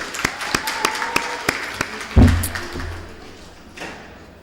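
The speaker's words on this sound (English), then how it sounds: "A round of applause for both those sides." A handful of sparse, evenly spaced claps from a small student election audience, followed by a single heavy thump and fading quiet.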